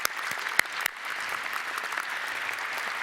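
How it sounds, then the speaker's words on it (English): An audience at a talk on peace and conflict in Burma gives the event organizers a round of applause, dense steady clapping with a couple of sharper individual claps standing out near the start. "So please, a round of applause for them for putting this all together."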